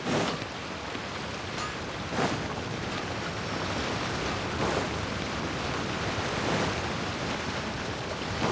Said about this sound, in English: The sound of the waves in this familiar port.